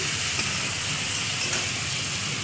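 Onion and tomato fry in a pan with a steady, even sizzle and hiss that holds close and constant throughout, no voices over it.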